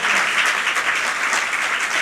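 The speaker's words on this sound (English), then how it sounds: "Can I have a really big applause for our panel of today," A crowd applauds a panel of speakers at a film and conversation event, a dense, steady wash of clapping that stays loud for the whole stretch with no voices over it.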